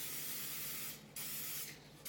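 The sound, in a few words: non-stick cooking spray sprayed into pans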